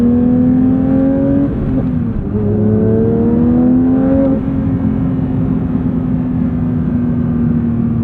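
A 2022 Porsche 911 GT3 engine roars loud and close, its pitch climbing as revs build, dipping briefly around a shift, then rising again before settling into a sustained high drone.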